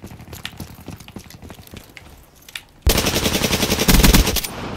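Rapid Peacekeeper submachine gun fire in Black Ops 3 multiplayer, with lighter shots and movement at first, then a loud sustained automatic burst that grows even heavier near the end.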